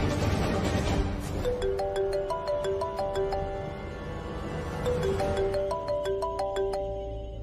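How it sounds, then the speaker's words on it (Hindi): A ringtone-style melody plays loudly and steadily, repeating its electronic phrase twice, in a tense Hindi television drama scene about an injured man. "किसका फोन है?"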